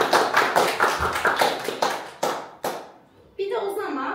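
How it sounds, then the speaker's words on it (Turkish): Children in a school setting clap a few rhythmic bursts of hand claps, thinning to a couple of sharp separate claps, followed by a brief pause and then a voice. "sonra bir alkış alacağız"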